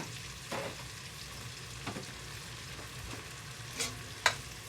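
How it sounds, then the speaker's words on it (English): Garlic and vegetables sauté in melted butter in a pot for potato soup, giving a soft, steady sizzle with a few faint clinks of a utensil against the pan. "Until all the butter melts and all this vegetables start to saute just a little bit."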